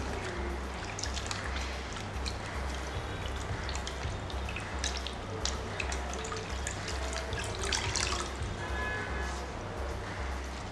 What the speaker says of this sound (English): Wash our pawpaw leaf thoroughly.